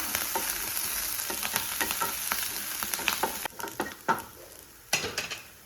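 Chopped garlic and green chillies sizzle steadily in a hot pan while a spoon stirs and scrapes, the hiss close and continuous with sharper clacks toward the end, and no talking.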